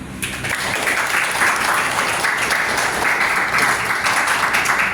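A class applauds after a group presentation in a university history teaching session, steady clapping from many hands sustained and fairly loud throughout.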